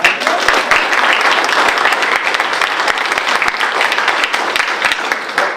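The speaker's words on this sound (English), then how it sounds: "Don't applaud too early" Lecture-hall audience applauding a university professor's talk, a steady, dense wash of clapping from many hands that holds at full strength for several seconds without any voices over it.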